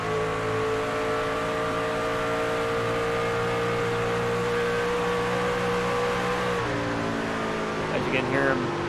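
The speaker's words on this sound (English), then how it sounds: "As you can hear him get off that throttle, kind of coast through the corners." A race truck engine in the iRacing truck series at Homestead-Miami Speedway drones steadily and loudly, its pitch easing off and then climbing again as the throttle lifts through the corners. A commentator talks over it.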